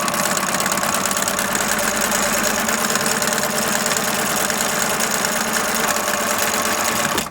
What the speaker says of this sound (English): I'm gonna go ahead and start sewing now.